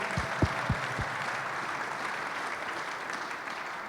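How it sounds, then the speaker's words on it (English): Applause fills a hockey arena during an anniversary celebration, a soft, distant, roomy wash of clapping that holds steady for a few seconds, with a few sharp low thumps near the start. "give yourselves a big round of applause for supporting our town and this arena"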